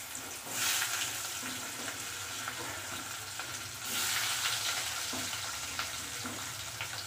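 Potatoes sizzle in hot oil with mustard seeds, a steady dense frying hiss with occasional stirring scrapes and small pops, fairly close and unbroken by speech.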